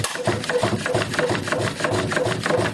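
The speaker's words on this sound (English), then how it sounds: "I'm only stepping on the treadle." A foot-treadle-powered lathe drill runs with a steady, rhythmic whirring and clacking that pulses several times a second, close and moderately loud throughout.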